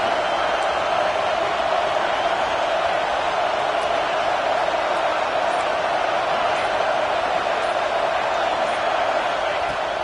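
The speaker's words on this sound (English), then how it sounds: "This crowd busting the decibel meter and trying to will a 4th down stop." Dense, steady roar of a college football stadium crowd straining to will a fourth-down stop, loud and continuous with no breaks.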